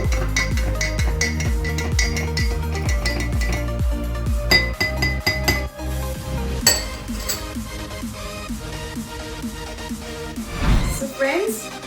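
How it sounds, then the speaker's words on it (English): Metal spoon clinking against a glass while stirring masala tea with lemon, quick rhythmic close-up taps and rattles that loosen into slower scattered clinks. "Mix it well."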